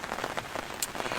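Rain falls steadily outdoors, a soft, dense patter of drops striking surfaces at close range with no one speaking.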